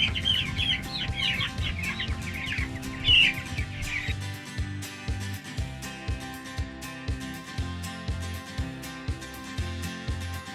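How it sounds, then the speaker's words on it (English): Several pastured meat chickens cluck and squawk close by as they are caught, then a steady run of thumping, rattling knocks continues under fainter clucks. "Now comes the fun part, catching 48 chickens."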